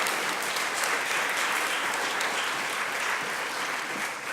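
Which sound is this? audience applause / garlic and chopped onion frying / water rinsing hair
audience applause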